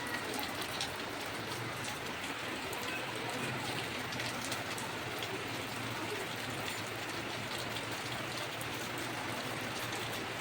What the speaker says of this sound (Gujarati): આજ તો સવારનો વરસાદ ચાલુ જ છે